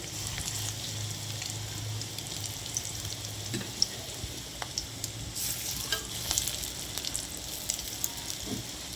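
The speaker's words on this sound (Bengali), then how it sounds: "যে মাছের ডিমটা ছিল, যে বেসন লঙ্কা পেঁয়াজ দিয়ে মেখে রেখেছিলাম, সেটা আমি এবার ভাজতে শুরু করব" Round fritters of fish roe mixed with gram flour, chili and onion frying in hot oil: a steady, close crackling sizzle with scattered pops and light spatter throughout, and no talking.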